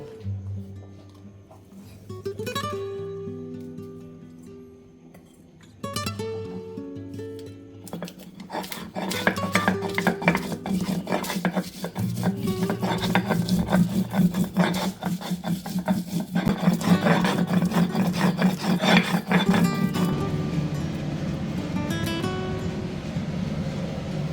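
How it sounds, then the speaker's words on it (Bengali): Chili and garlic ground by hand on a flat grinding stone for shim bhorta: scattered scraping knocks at first, then a steady, loud rasping and rubbing of stone on stone that continues to the end. "লঙ্কা আর রসুনটা আমি বেটে নেব"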